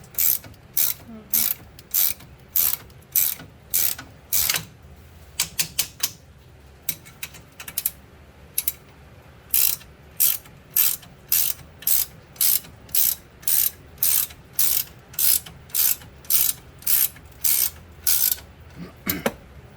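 A gear wrench ratchets on a Yamaha Rhino 660 during a 4-inch lift install, giving loud, close bursts of rapid clicking in a steady back-and-forth rhythm with short pauses between strokes and no talking.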